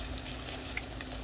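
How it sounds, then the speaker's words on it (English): Tomato paste and mushrooms sautéing in a generous amount of butter for a beef stew, giving a steady, close sizzle with faint crackles throughout. "we're going to go ahead and saute that up in all this delicious butter"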